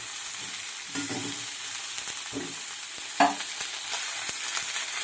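Cauliflower fries in a pan with a continuous close sizzle, marked by several scraping stirs and occasional light taps of a utensil.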